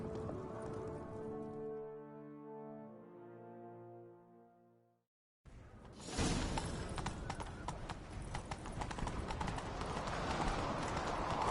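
Hooves of a horse in The Witcher 3 video game, preceded by a sustained low tonal horn-like swell that cuts out, then a rapid dense clatter of hoofbeats at speed rising loud and continuous.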